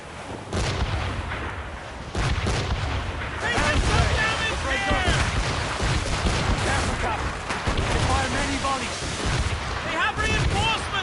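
Cannon fire from British gunboats in Assassin's Creed Rogue comes as repeated heavy booms over sea and wind noise, with shouting voices in between.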